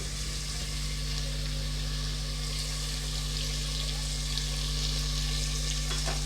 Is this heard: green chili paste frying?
yes